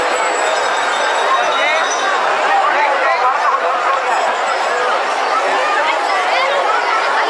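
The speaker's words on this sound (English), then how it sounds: "Quite a crowd, difficult getting through all this." A dense festival crowd of pilgrims fills the illuminated Tepam Float Tank grounds in India with steady, loud babble of many overlapping voices, close and continuous throughout, with occasional faint clinks.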